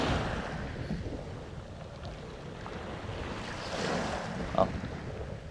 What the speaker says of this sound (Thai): ลมมาเฉย